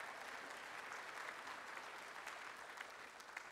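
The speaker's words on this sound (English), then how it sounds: "give a clap offering of praise to the Lord God" A church congregation claps together in praise of God, a steady wash of many hands held at an even level from start to finish with no talk over it.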